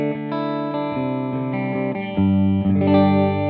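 Charvel Pro Mod Relic San Dimas electric guitar on its middle pickup position with full humbuckers, played through a distorted tone: sustained overdriven chords and notes ring out loud and alone, shifting to a thicker, brighter strum near the end.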